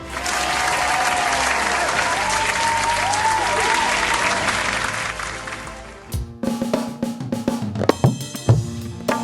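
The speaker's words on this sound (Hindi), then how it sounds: "जोरदार तालियों के साथ स्वागत कीजिए" Studio audience on a gospel singing TV show applauds to welcome a guest, loud sustained clapping for about six seconds. It then thins into scattered claps and a few music-like tones.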